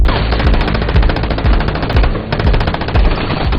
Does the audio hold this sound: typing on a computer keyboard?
no